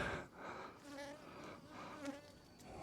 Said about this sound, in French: on est importuné par les mouches.